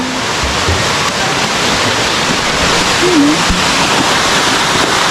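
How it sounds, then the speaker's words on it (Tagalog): A waterfall roars loud and steady, a dense continuous rush of falling water, with faint voices now and then underneath. "Nandun yung falls."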